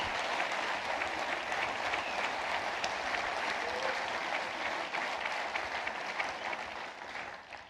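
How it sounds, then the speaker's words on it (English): Sustained applause from a large audience before a Mike Pompeo speech at Hillsdale College, steady and full throughout, fading slightly at the end. "I was saying to Dr. Arnn, that much applause before you speak is dangerous"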